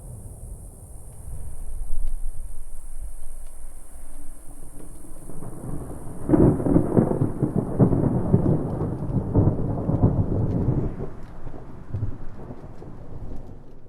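Video game thunderstorm from a Skyrim weather mod: steady rain hiss with a low rumble, then a loud thunder crack partway through that rolls on with heavier rain, with no talking.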